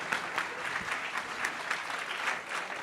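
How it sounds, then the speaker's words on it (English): Conference audience at an entrepreneurship kickoff event clapping steadily, a dense, even patter of many hands at moderate volume. "give him a round of applause, Hubert."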